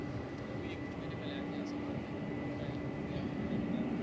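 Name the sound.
Cathay Pacific airliner at DFW airport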